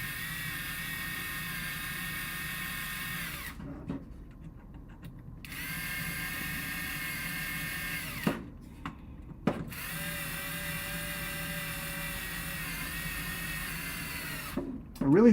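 Power drill driving screws into a robot build, loud sustained whirring with a few short pauses and stops, close by, with no talk over it.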